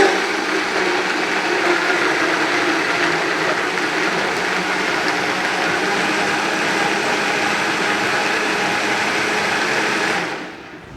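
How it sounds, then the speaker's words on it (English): A Vitamix blender whirring steadily while blending a tofu sofritas sauce with water, a loud, even high-speed whine held for about ten seconds before spinning down and cutting off at the end. "This is a Vitamix. Vitamix is a type of blend. It's a blender."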